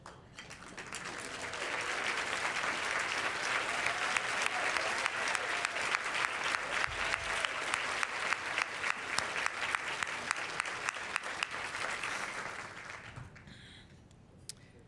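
Sustained applause from a luncheon audience at a Women's History Month event in Bloomington, a dense wash of many hands clapping that swells quickly, holds steady for about twelve seconds, then tapers off.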